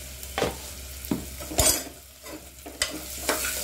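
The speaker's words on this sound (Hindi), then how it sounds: "थोड़ा प्याज पकने देते हैं।" Onion frying in a pan for chicken soup, a low sizzle broken by several distinct stirring scrapes and clinks of a spoon against the pan at irregular intervals.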